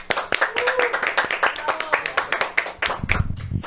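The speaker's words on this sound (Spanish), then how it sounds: "te despedimos con un fuerte aplauso" An audience gives a strong round of applause, a dense run of sharp claps throughout, mixed with a voice talking over it.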